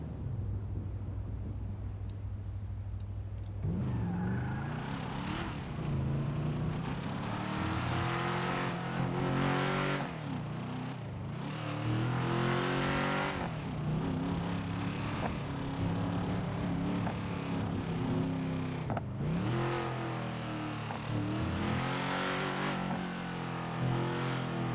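A car in GTA (NoPixel roleplay) drives steadily, its engine rising and falling through shifts in a continuous hum with rising pitch sweeps, sustained and fairly loud throughout.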